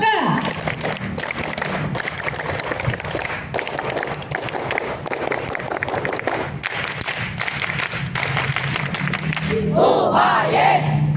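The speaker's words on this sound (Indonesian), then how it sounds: "3 kali tepuk pramuka" Elementary school scouts at a Pramuka camp perform the rhythmic Pramuka clap three times, with loud, sustained group clapping mixed with shouting voices and crowd noise throughout.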